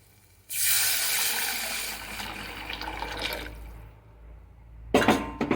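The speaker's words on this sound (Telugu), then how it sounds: "కలిపిన తర్వాత ఈ బీట్రూట్ బీట్రూట్ జ్యూస్ ఉంది కదా ఇది పోసేయండి" Beetroot juice poured into a mixture in a home kitchen, a steady liquid splash starting abruptly and running for several seconds, then tapering, followed by a few short clinks near the end.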